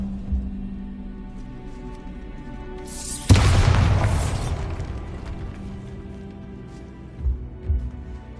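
A Bombarda explosion spell goes off in Hogwarts Legacy: one sudden loud boom with a crackling burst that rolls off over about two seconds, followed by quieter rumbling and a couple of soft thuds near the end.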